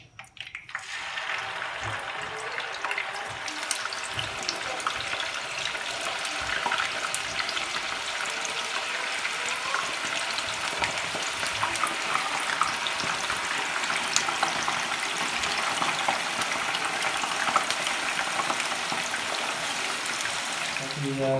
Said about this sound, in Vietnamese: Cái chảo mỡ của mình đã già rồi thì mình cho đậu vào mình rán nhé.